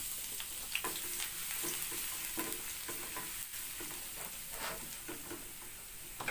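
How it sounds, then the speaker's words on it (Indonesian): Garlic sautéing in oil in a pan, a steady close sizzle with scraping stir strokes throughout, no talking. "kita tumis bawang putihnya sampai harum"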